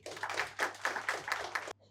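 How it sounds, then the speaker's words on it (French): An audience claps at a public address in Cameroon, a steady mid-level patter of many hands with rhythmic swells that stops abruptly. "Il faut l'applaudir très fort"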